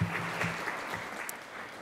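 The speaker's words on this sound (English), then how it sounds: "You can clap for each of these people." Audience clapping at a civic club panel event in Central Ohio, a brief, moderate patter of hands that stays steady and fairly even for a couple of seconds.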